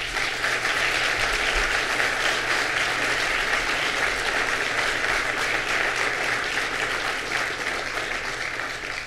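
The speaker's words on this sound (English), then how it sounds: "Let's give them a round of applause." Sustained applause from a large audience at Governor Cuomo's announcement in the Marist College Murray Student Center, dense and steady for the full stretch, with a faint low hum underneath.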